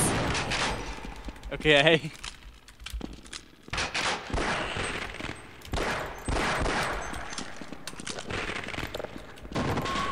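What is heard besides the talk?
gunfire in the video game Half-Life: Decay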